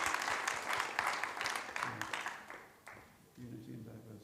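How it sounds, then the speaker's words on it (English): Audience applause at a Srila Prabhupada Day celebration at Bhaktivedanta Manor, a dense wash of clapping from a crowd that fades out midway, with voices and low sounds over the tail. "Round of applause for that man."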